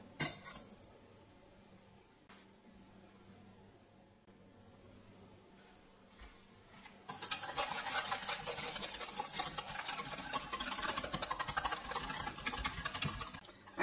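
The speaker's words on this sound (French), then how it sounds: "Et on va mélanger le tout simplement au fouet manuel." A hand whisk beats whole eggs, yolks and sugar in a small bowl, starting after a quiet stretch of faint handling and then a steady, fast, continuous scratchy rattle at close range.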